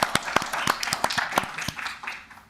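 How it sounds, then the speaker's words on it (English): A small group applauds at a utility commission meeting, brisk scattered claps for a couple of seconds, moderately near and fading toward the end. "I think it's worth a round of applause."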